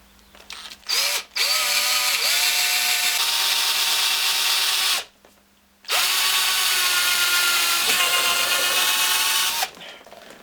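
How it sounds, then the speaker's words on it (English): A power drill whines loudly in three bursts, drilling out holes in rubber on motorcycle parts with a rising pitch under load, separated by brief pauses. "I'm just going to drill these out basically"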